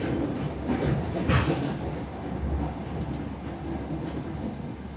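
A passenger train rolls along the rails on the Kaišiadorys–Riga–Daugavpils line, a steady low rumble and rattle running throughout, with a brief louder surge of clatter near the start.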